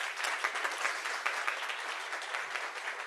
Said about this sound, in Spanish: Bien, un aplauso por favor para nuestro.